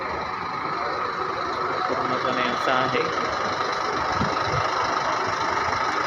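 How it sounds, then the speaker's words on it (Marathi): Bus engines idle and rumble steadily through the busy Pune station bus stand, a continuous mid-level drone with a brief knock or clatter, while someone talks over it. "बघू शकता तुम्ही पुणे स्टेशन बस स्थानक हे असं आहे"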